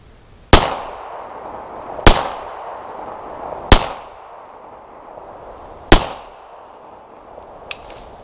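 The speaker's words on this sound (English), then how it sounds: "I fired 4 shots and all 4 went through" Beretta 92FS 9mm pistol firing Winchester White Box 115 grain jacketed hollow points from 7 yards, four loud, sharp outdoor shots spaced irregularly, each ringing briefly before fading.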